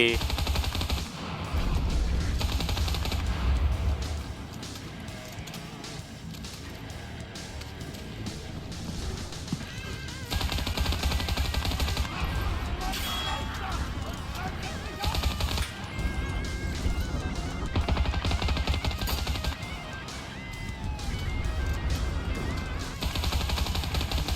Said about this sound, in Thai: มาดูไฮไลท์ปืน Beretta M38A